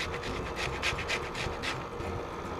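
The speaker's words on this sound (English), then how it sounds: "Just a regular old grater." Lime zest is rasped on a regular handheld grater for key lime cupcakes, a quick series of rhythmic scraping strokes heard close and clear, with no talking.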